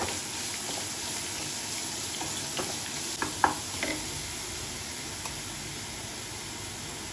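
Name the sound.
sautéing ground shallots, garlic, dried chillies and tamarind in pan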